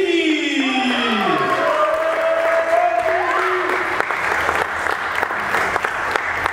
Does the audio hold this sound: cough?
no